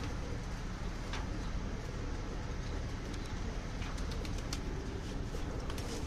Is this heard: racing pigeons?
yes